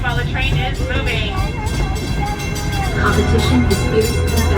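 The Walt Disney World Railroad train rolls along with a loud continuous rumble and clatter of wheels on track, while an announcement voice plays over the noise.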